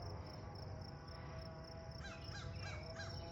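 Crows caw from a ridge above Culver Lake, New Jersey, along the Appalachian Trail: a few harsh calls in quick succession near the end, over a steady hiss of wind and insects.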